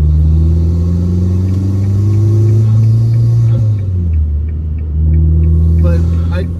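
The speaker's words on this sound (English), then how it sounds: "the atmosphere and the ambiance that's created by the engine" An Italian car's engine rumbles loudly and steadily while driving, with a deep throbbing tone that dips as the revs shift, close and continuous throughout.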